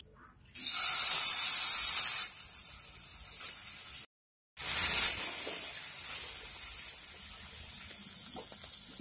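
Prawns fry in hot olive oil in a pan, giving a loud, close sizzle in two strong bursts separated by a brief gap, then easing into a quieter steady hiss, with no voices.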